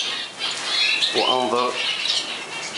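A caged canary squawks in a brief burst partway through, with a rustle of fluttering wings, as it is caught by hand during a droppings check; someone speaks a word over it.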